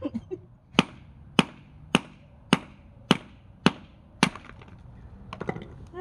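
A hammer strikes a geode seven times in an even, steady rhythm, each sharp, close crack ringing out clearly before the stone breaks, followed by a scatter of smaller taps and rattles.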